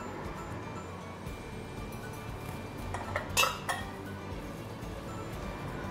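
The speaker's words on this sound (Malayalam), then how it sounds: "നന്നായിട്ട് ഇളക്കി നമ്മൾ ഒരു വിസിൽ വരാനായിട്ട് അടച്ചു വെക്കാം" Chicken being stirred in a pressure cooker for a Syrian Christian Dukrana special dish, a quiet kitchen with a short cluster of metallic clinks and scrapes in the middle as the pot is handled, otherwise faint background hiss.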